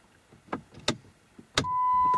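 A key goes into the ignition of a UK-spec 2010s Jeep Grand Cherokee WK 3.0 CRD and turns, making a few sharp metallic clicks that lead into a steady electronic tone as the ignition comes on.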